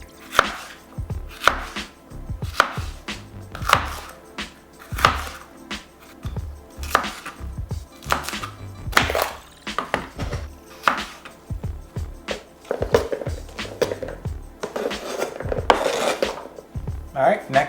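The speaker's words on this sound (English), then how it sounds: "I really don't know the right way to cut a pepper" Knife chopping a pepper on a cutting board: a series of sharp, close knocks in an uneven rhythm, some in quick bursts, with light scraping between them and no speech.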